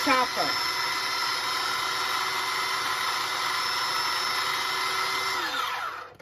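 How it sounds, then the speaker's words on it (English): An electric chopper whirs steadily at close range, blending burger spread sauce until smooth, a loud continuous motor drone that holds for several seconds before cutting off. "I'm going to put it in a chopper till it gets really, really smooth"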